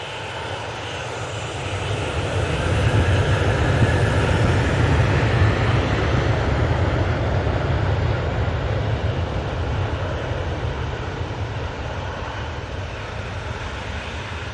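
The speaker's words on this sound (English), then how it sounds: "Just had the Easyjet A321neo come in." An Easyjet Airbus A321neo comes in to land at Manchester Airport, its jet engines giving a broad, loud roar that swells in after the first couple of seconds and then holds steady, slowly easing.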